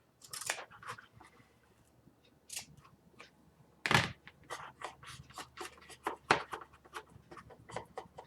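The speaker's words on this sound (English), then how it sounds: "I'm going to cut this off." Scissors make sharp, irregular snips while cutting bookbinding material for a punching trough, with a few scattered clicks and short cuts close to the microphone.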